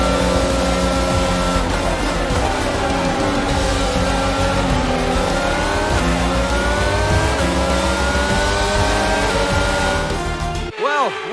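A Formula 1 car in the F1 22 game at the Hungarian GP, engine droning steadily at high revs with shifting pitch as it drives, then a sharp drop at the very end; talk sits faintly underneath.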